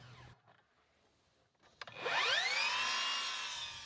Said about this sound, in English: then cut a 45-degree angle at the top of the post as a decorative element.